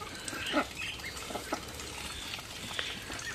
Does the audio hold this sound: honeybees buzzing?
no